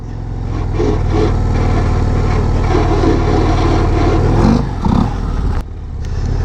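A 2024 Harley-Davidson CVO Road Glide ST rumbles close and loud on a race track, a steady heavy engine drone that briefly dips and surges near the end.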